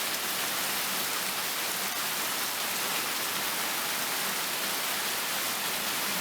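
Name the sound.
rain falling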